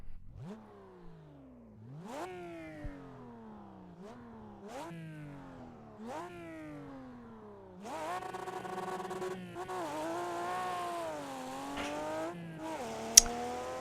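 A RUF race car engine in the iRacing sim game revs hard through repeated rising gear pulls, then settles into a loud, raw sustained roar with a brief sharp click near the end.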